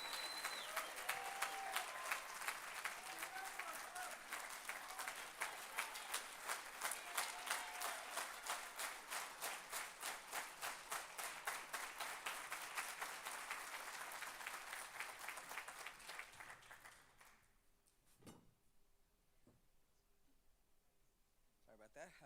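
A large audience at the annual Cesar Chavez Breakfast claps loudly and steadily for about seventeen seconds with voices mixed in, then the applause dies away to a quiet room with a few scattered sounds.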